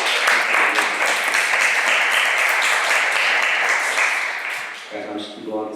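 A church congregation at a Sunday service in Detmold breaks into dense, sustained applause that fills the room, then tapers off near the end as a voice comes in.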